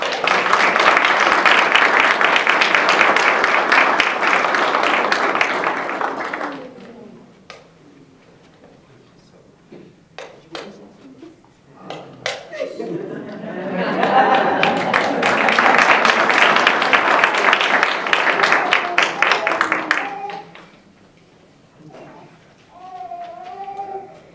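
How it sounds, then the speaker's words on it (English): Audience applause at the 2022 Windsor Bridge Builder Awards ceremony, a dense burst of clapping for about six seconds, then a quieter gap with scattered sounds, and a second long round of clapping before fading. "let's give her a round of applause"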